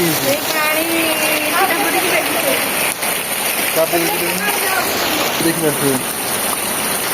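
Heavy monsoon rain pours down in a steady, dense hiss that never lets up, with people talking over the downpour throughout.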